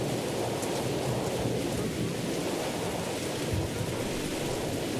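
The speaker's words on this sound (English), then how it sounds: "The storm has picked up" A heavy thunderstorm from the indie horror game Mothered: dense, loud rain pours steadily with low thunder rumbling beneath, with no voices.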